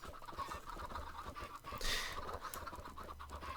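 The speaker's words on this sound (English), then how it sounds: "Like just like cluck cluck cluck cluck cluck cluck." A swarm of chickens clucking in the video game Sky Factory 3, a dense overlapping chorus of short clucks and scratchy bird noises, steady and busy throughout.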